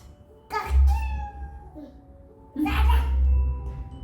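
A cat meows twice, each call loud and drawn out with a harmonic, whining tone, separated by a short pause, with a voice faintly in the background.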